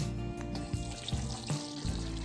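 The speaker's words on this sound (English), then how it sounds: "We are grilling the meat in the fire." Meat grilling over an open campfire, a steady crackling sizzle with small pops and spits close by, continuing without talk.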